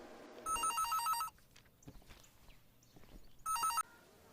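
A telephone rings twice, bright electronic trilling bursts separated by a pause filled with quiet shuffling and faint noises.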